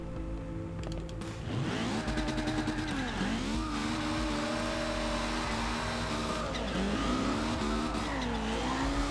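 A 1973 BMW 2002 Turbo drifts around the docks in the racing game Forza Horizon 2, its engine droning and swooping in pitch as it revs while tires squeal continuously, loud and close, with no talking.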